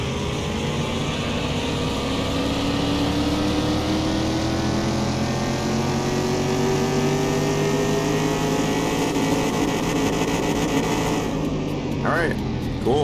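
A car engine in Car Mechanic Simulator 2021 holds a steady, loud idle rumble with slowly shifting tones. A brief burst of voice comes in near the end.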